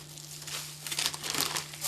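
A plastic freezer bag crinkles and rustles in a short, close burst of crackling as loose steelhead eggs are loaded into it, with no talking.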